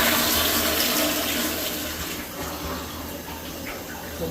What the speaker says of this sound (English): Want to make sure you flush the toilet a few times.